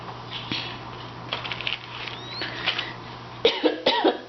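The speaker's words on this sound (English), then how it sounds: "I can't stop coughing." A person coughs a few times in a quiet room during a papercraft session, short dry bursts near the microphone mixed with soft paper handling and rustling, with a low hum dropping out near the end.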